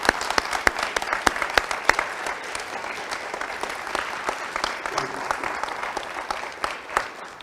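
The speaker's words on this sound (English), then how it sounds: "Can we give them a big round of applause, please?" Steady applause from an audience at a school honor society induction ceremony, many hands clapping at once with sharp individual claps standing out early, continuing throughout.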